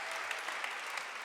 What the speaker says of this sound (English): Round of applause for that, come on.